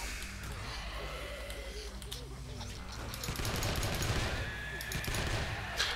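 Rapid automatic gunfire in the zombie survival game 7 Days to Die, bursts of shots hitting a crowd of zombies, loud and sustained with dense rattling, while someone talks over it.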